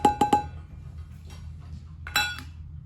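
A spoon mixes oats and whole wheat flour in a bowl for healthy peanut butter cookies: three quick light clinks, a quiet pause, then another brief clink, all faint and close.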